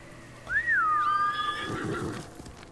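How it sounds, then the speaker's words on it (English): A horse in the Ghost of Tsushima video game lets out a single clear whinny, a rising then falling neigh with a fluttering tail and a few soft snorts after, heard alone over quiet game ambience. "I thought I parked my horse right here."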